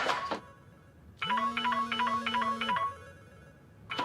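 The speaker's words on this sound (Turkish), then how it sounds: "Telefon çalıyor." A phone ringtone plays a short electronic melody for about a second and a half, moderately loud, between brief bursts of sound.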